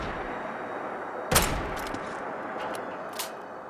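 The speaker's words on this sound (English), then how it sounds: "The Fire Lance shotgun." A single loud shotgun blast from the Fire Lance shotgun in a Fallout 4 mod, a sharp close report followed by a short decaying tail and faint clicks of handling.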